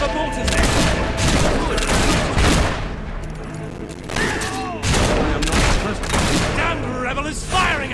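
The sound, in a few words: gunfire and mortar fire in the video game Fable III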